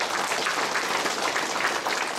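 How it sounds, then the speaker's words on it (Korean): A church congregation claps to welcome newcomers, a dense and even round of applause heard from a middle distance with no talk. "우리 새가족들 위해서 박수 한번 할까요?"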